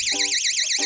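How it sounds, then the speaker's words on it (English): Home alarm system in an underground house built into a mountain, sounding a loud continuous warbling electronic tone close by, with short buzzy bursts pulsing beneath it. "We've got an alarm system."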